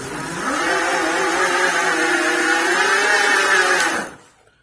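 Aipas M2 Pro e-bike hub motor at full throttle on pass assist level 5, a loud steady electric whine with stacked harmonic tones rising briefly at the start, holding for about three and a half seconds, then cutting off abruptly into near silence.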